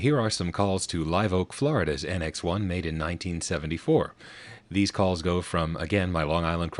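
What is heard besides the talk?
No distinct noise like a dog, phone or traffic.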